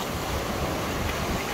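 Sea waves washing onto Saidia beach after floods, a steady close roar of surf mixed with wind rushing over the microphone, continuous and unbroken.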